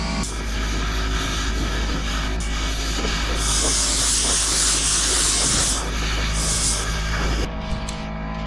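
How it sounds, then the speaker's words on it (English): Steady airy hiss of a Porphis PRD 815 paint spray gun running for several seconds over a low mechanical hum, rising briefly in bursts before cutting off near the end. "the way the spray gun lays down the paint"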